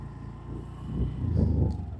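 A Honda Dio 125 scooter engine hums low and steady while riding on a city street, swelling slightly as it pulls forward over two seconds.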